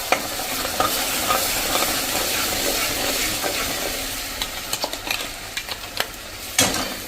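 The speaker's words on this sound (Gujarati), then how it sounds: "હવે જે આપણે આ પેસ્ટ બનાવી છે ને એ પેસ્ટને પણ આમાં તેલમાં જ વઘારમાં નાખી દેશું." Freshly ground herb paste for a sattvic undhiyu fries in hot tempering oil while being stirred, a close, continuous crackling sizzle broken by spoon scrapes and clinks against the pan.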